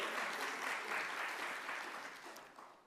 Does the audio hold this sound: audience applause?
yes